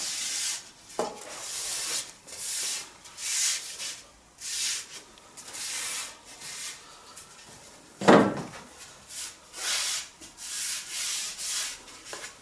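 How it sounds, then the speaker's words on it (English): A tack cloth is rubbed over lacquered wooden LED lighting strips for a narrowboat, giving repeated soft swishing strokes in an uneven rhythm, close up, with one sharper knock partway through. "To make sure they're free of dust, I'm using a tack cloth, which is a sort of muslin material that's impregnated with a sticky substance"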